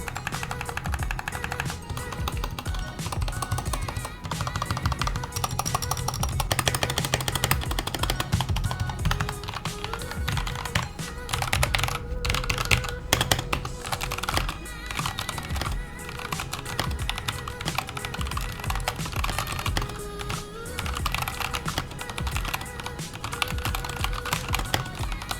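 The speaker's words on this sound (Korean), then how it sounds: "이 하코 클리어의 타건 느낌과 타건은 어떨까?" Typing on a KONO kira mechanical keyboard with Hako Clear switches: a dense, steady stream of crisp, close key clacks in quick irregular bursts that lasts throughout, with no talking.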